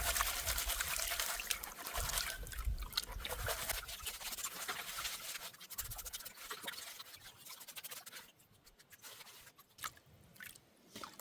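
Water trickles, pours and sloshes in a gold pan during prospecting in the Victorian goldfields, loud and continuous, easing off and growing quieter toward the end.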